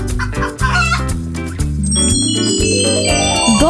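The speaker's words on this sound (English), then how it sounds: "Chicken." A chicken clucks and a rooster crows against a cheerful children's music backing, with a rising jingly tone toward the end; the bird calls sit clearly in front.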